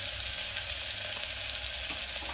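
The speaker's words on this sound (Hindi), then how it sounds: "ये भुना जाएगा तो और दूसरा मसाला डालूंगी। लगभग 2 मिनट भूनूंगी।" Tomatoes salted and frying with spices in a pan for sambar give a steady, even sizzle close by, with no talking over it.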